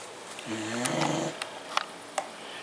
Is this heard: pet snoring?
yes